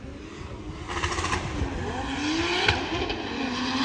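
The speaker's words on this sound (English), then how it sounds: "as we have Simos Tikis coming in with his E36 powered by a 2JZ, around 900 horsepower, pushing through zone 4" A BMW E36 drift car powered by a 2JZ engine of about 900 horsepower roars at a distance during drift championship practice in Cyprus, its engine note rising steadily across a continuous wash of track noise.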